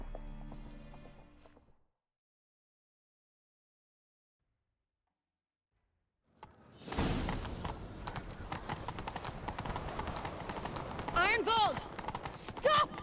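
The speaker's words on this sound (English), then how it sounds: "Grab a horse, we'll chase him down." Horse hooves clip-clop at a gallop in The Witcher 3 video game, a busy, steady rhythm rising after a few seconds of silence, with a whinny and game sounds mixed in; brief talk is heard at the start.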